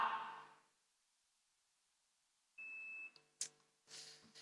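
Quiz show buzzer at a corporate quiz final: a short steady electronic tone, then a couple of sharp beeps and a brief burst of noise after a long quiet gap.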